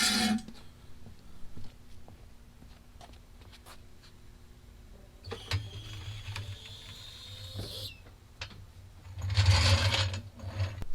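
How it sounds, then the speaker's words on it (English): A jack ratchets and clicks as it raises a lowered Chevrolet Tahoe-class SUV in a garage, with steady mechanical clicking and occasional clunks and a louder metallic burst near the end. "So let's lift it up, get those jack stands out, and we'll go from there."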